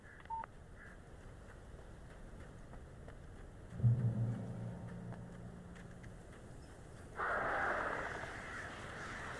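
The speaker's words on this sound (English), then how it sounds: "Birds." Crows caw in the Alan Wake video game, a short cluster of harsh calls mid-clip over a quiet, hissy ambience, with a brief electronic beep early on and a burst of noise near the end.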